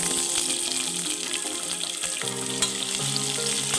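Onion sizzles steadily in hot oil with mustard seeds and cumin, a dense continuous frying hiss with faint clinks and stirring, close and alone.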